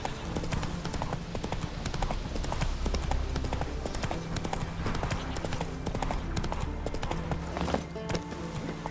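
Roach, a horse in The Witcher 3, trots along with steady, dense clip-clopping hooves, close and continuous over a low ambient game soundscape.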